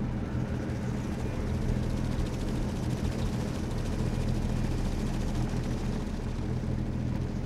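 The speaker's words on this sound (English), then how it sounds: "That helicopter must be so dumb to not see a car driving in the middle of the road." A helicopter flies overhead in the S.T.A.L.K.E.R.: Lost Alpha video game, a loud, steady, broad rotor and engine roar that holds unbroken throughout.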